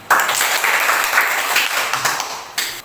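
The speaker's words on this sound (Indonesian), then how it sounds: "Tepuk tangan." Schoolchildren clap in a classroom, a dense burst of hand claps starting abruptly and continuing steadily for a few seconds at close range, with a fresh surge near the end.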